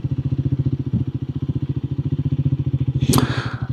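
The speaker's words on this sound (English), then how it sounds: "today I'm on the 400X Scrambler from Triumph" A Triumph Scrambler 400X motorcycle idles with a loud, close, rapid pulsing thump, steady throughout, and a brief sharp clack near the end.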